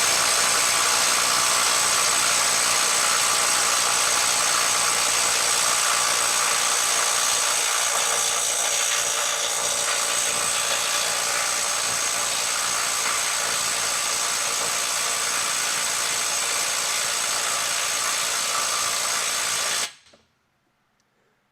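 Makita 18V brushless right angle impact wrench straining against a 350 ft-lb fastener, a continuous loud high-pitched hammering whir held for about twenty seconds before stopping abruptly.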